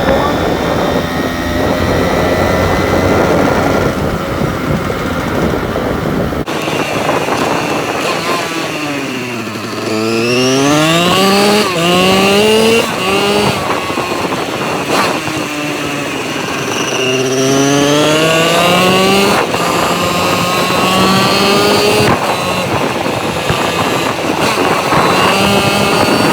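A Kawasaki KH125 Grasshopper motorcycle engine runs loud and close, settling to an idle before rising through a couple of strong revs and falling back again, with a slipping clutch.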